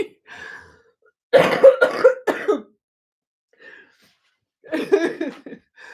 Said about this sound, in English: I'll do an off-cam cough